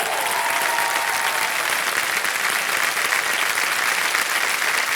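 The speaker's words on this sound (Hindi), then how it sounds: "तालियां बज जाए जोरदार।" A studio audience at the KBC game show applauds loudly and steadily, a dense wash of clapping that fills the room without a break.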